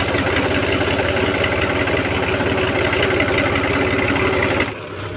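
A tractor engine runs steadily and loud at close range, a low throbbing idle-like drone with mechanical vibration that drops off abruptly near the end.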